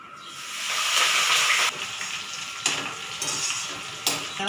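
Mustard seeds spluttering in hot oil, a loud steady sizzle broken by sharp crackling pops, close up.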